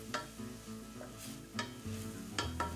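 Finely sliced leeks and diced garlic stir-fry in butter in a saucepan, with a low continuous sizzle broken by several sharp spoon or spatula scrapes and taps against the pan.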